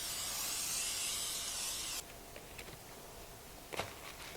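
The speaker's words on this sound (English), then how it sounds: "let's spray our baking dish with some nonstick cooking spray" Nonstick cooking spray hisses onto a baking dish in one steady, loud two-second burst, then cuts off, leaving quiet room tone with a few soft clicks and knocks.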